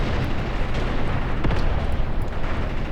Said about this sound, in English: My anti-tank guns are starting to engage it.